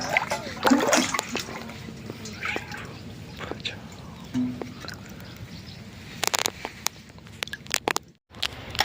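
Water is filled from a small stream running beside a farm field, with intermittent splashes and sloshing close by and voices talking now and then.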